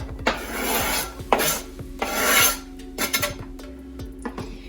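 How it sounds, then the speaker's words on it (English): Knife chopping an onion on a cutting board for calabacitas tacos: repeated close, scraping strokes in uneven bursts, with no voices. "Then I'm gonna come over and chop my onion"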